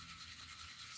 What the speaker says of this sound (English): hit it with the sanding. Go right back to the 1500 grit